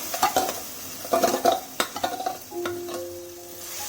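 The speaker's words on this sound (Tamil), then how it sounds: "இந்த வெங்காய வாசனை போகிற வரைக்கும் நம்ம இதை வந்து நல்லா வதக்கணும்" Ground onion paste sautéed in a pan for cabbage gravy, with close, irregular scraping and stirring strokes over a soft sizzle and occasional clinks of a utensil on the pan.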